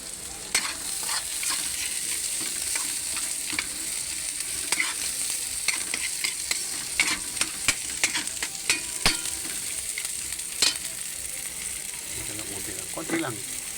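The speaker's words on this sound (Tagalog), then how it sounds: "Palulutuin lang natin ito sa mantika." Tilapia fries in hot oil with a steady, dense sizzle throughout, crackling pops scattered over it and a few sharper spits; close and fairly loud, with no talking.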